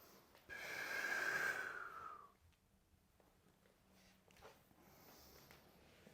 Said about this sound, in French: n'hésitez pas à l'exagérer,